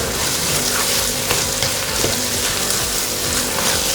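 Green chillies and onions frying together in oil for chicken biryani, giving a loud, steady, dense sizzle with no pauses and no voices over it.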